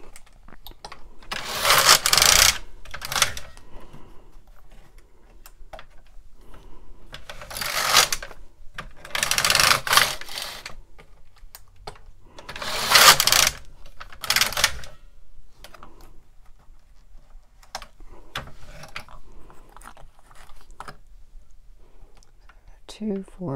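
A Brother KX350 or LK150 knitting machine carriage is pushed across the needle bed in several separate passes, each a bright rattling whoosh lasting a second or two, with quiet handling noises between passes.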